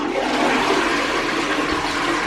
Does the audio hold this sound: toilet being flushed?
yes